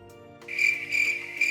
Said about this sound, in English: Awkward crickets after chat getting the sound effect wrong.